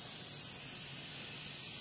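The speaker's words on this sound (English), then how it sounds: "I'm using the gun. You can hear it running here in the background." A Harbor Freight HVLP paint spray gun runs steadily in the background, giving a constant faint airy hiss with no breaks.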